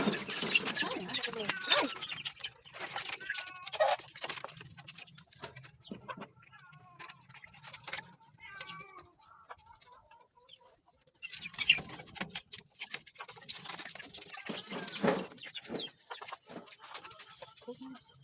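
Two-month-old chicks on a backyard poultry farm in Lopez, peeping and chirping in quick irregular bursts throughout, moderately close, with someone talking over them at times.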